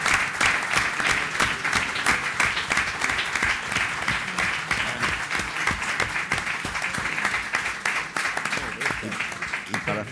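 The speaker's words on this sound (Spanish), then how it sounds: "Creo que este momento merece un aplauso fuerte" Loud, sustained applause rolls through the opening session of an international congress of Jacobean associations in Ourense, Galicia, many hands clapping densely with a few sharper claps standing out, near and steady for several seconds.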